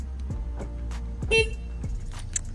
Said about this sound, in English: Now listen to this little horn.